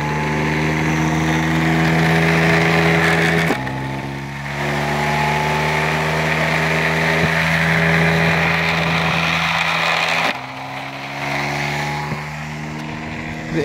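A Heater Power Alley Pro batting cage pitching machine runs with a loud, steady motor drone and whine. The pitch shifts slightly at two points while it keeps running.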